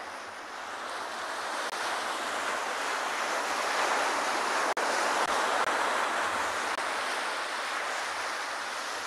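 Ocean surf roars as a steady broad wash, loud and unbroken, with one sharp click in the middle and no voices.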